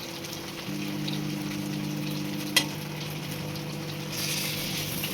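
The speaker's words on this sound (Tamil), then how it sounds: "நம்ம ஃப்ரை பண்ணிக்கணும். இப்போ மீனை திருப்பி போட்டோம்." Quiet, steady sizzle of fish frying in a pan with oil crackling, a low hum underneath and one sharp clink midway.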